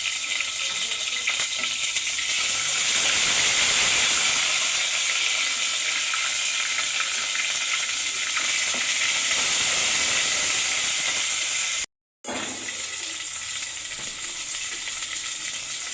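Ginger garlic paste hits hot oil and sizzles with a loud, continuous steamy hiss that holds steady throughout, interrupted only by a brief dropout, with no one speaking.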